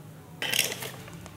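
Tablespoon clinking against a container while measuring half a spoonful of pesticide for spraying chili plants, a short bright metallic clatter followed by softer taps, close and alone.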